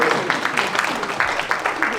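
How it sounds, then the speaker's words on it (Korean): Rhythmic applause for a church worship team at an evangelism seminar, steady claps pulsing evenly under a continuous murmur of voices and room noise. "찬양팀을 위해서 다시 한번 뜨거운 박수"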